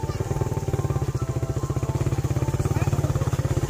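A motorcycle engine runs steadily at a checkpoint in Barangay San Roque, Las Nieves, with a fast, even pulsing putter held close and loud throughout, and no voices over it.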